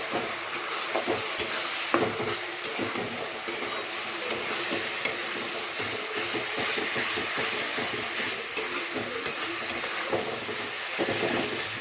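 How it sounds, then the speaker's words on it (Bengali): Onion with ginger and garlic paste stir-fried in a pan, a steady close sizzle with repeated scraping and stirring clatter running throughout, no talking. "তো আদা বাটা, রসুন বাটা দিয়ে দিয়েছি নিয়ে ফোড়ন দিয়ে এবারে ভালো করে কষিয়ে নেব।"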